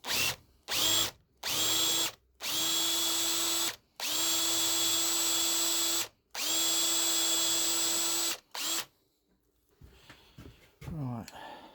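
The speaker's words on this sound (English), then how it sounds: "I'm going to drill the head off it" A power drill with a 6mm bit whines in several bursts of varying length while drilling out a screw head on a bandsaw coolant pump, stopping and starting, then falls quiet before faint handling noises at the end.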